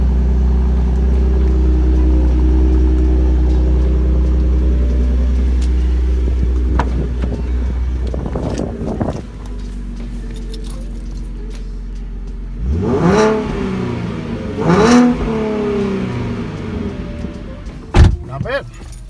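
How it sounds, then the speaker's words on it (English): V6 3.7 engine, tuned and fitted with a Borla S-Type exhaust, idling with a steady low rumble, then revving in several sharp bursts that rise and fall, close and loud. "So this thing's now MPT tuned and Borla S-Types."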